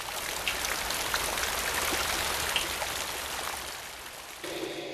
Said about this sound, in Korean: 심산 계곡을 찾아가 끝없이 흘러내리는 물소리를 들어도 좋다.